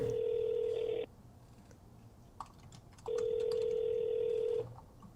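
A telephone ringing: two long electronic rings with a two-second gap between them, some faint clicks in the quiet stretch.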